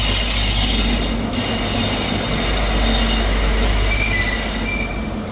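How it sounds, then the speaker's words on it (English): ScotRail service 43028 from Glasgow Queen Street to Aberdeen pulling into Perth station, a loud steady rumble of the train with high wheel squeal running throughout, close by with no voices. "Arriving in now is the 1450 ScotRail service from Glasgow Queen Street to Aberdeen."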